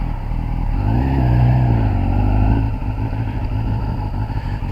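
A Kawasaki ZX10R sport motorcycle engine warming up, its steady low rumble holding loud and close, with a slight rise in pitch midway before settling back to an even idle.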